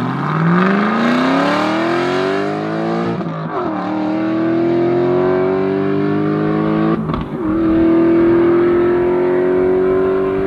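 An Aston Martin V8 Vantage engine revs up through the gears, its loud, close V8 note climbing steadily in pitch, dipping briefly at two shifts, then pulling on again, with no talking over it.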